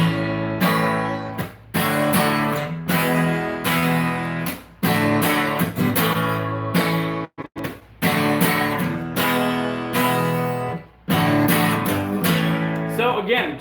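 Electric guitar strumming a three-chord riff: loud, sustained chord hits in repeated rhythmic bursts with brief gaps between phrases, played alone.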